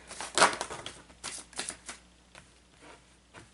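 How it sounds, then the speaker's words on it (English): Tarot cards are shuffled close up in quick riffling, flicking bursts, the first loudest, followed by several softer irregular snaps and slides. "I may keep shuffling."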